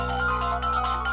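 A phone ringtone plays loudly and steadily, a sustained electronic tune with a few brighter accents.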